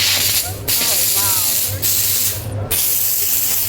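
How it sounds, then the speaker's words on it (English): A steam cleaner's insulated hose purges built-up water and steam in a loud, continuous spraying hiss. It dips briefly a few times and runs over a low steady hum. "we're purging out all that water that has accumulated within the system that wasn't used and has now turned into water more than steam"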